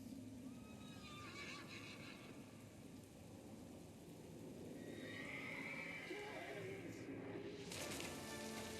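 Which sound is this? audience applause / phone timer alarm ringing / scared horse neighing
scared horse neighing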